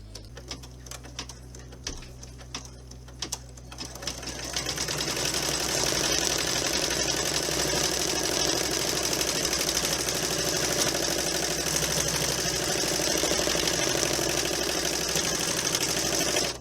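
An embroidery machine stitching out a square on a wallet piece: after a few seconds of quiet light clicks, a loud, steady, fast mechanical whirring and needle chatter runs continuously up close without talk.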